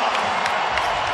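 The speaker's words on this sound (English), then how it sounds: "The crowd's loving it." Basketball arena crowd cheering and roaring, a steady loud wash of voices with faint claps through the short stretch.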